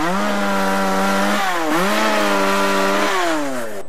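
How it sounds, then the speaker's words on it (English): A chainsaw used in forestry work in Japan buzzes loudly and continuously, its pitch dipping briefly twice as the engine bogs and recovers, then sagging slightly at the end. "is allowed to handle the chainsaw for the first time"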